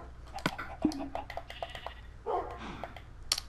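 A Minecraft dog gives a few short barks amid busy in-game clicks and keyboard tapping, with brief voice sounds and game noises scattered around.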